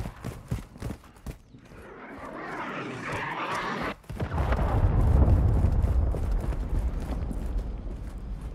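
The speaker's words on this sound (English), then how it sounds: "Hostile cruise missile launched" Cruise missile launch in the video game Warzone Mobile: a rising whoosh building to a sudden cut, then a heavy deep roaring rumble that swells and slowly fades, with scattered game clicks and thumps around it.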